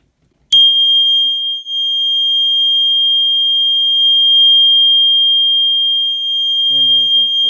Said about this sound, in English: So now we can get started with the test of this alarm.